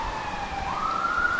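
An emergency vehicle siren passes outside, heard from indoors as a steady wail that rises in pitch and holds. It is moderately loud, with no voices over it.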